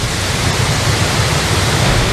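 Dense, steady roar of a large waterfall, loud and close throughout with no pauses or voices, heavy falling water filling the whole clip.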